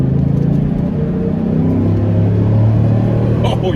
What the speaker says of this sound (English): just listen to this thing coming out of a truck